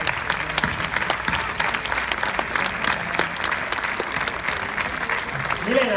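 Audience applause at an Italian film award ceremony honoring Paolo Villaggio, steady dense clapping filling the room for several seconds with a faint voice surfacing near the end.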